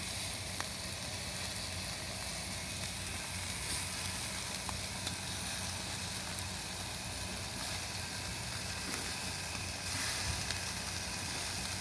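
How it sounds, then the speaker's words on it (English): Ribs sizzling on a very hot asado grill make a steady, dense crackling hiss that carries on unbroken throughout, close and fairly loud, with no talking. "I love the sound of sizzling ribs"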